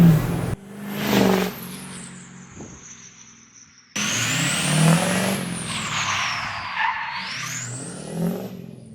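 A 6.0 race truck fitted with a KC Turbos S2R turbo accelerates in two loud, close runs, engine roaring and rising with a whistling turbo spool and hiss, separated by a sharp cut.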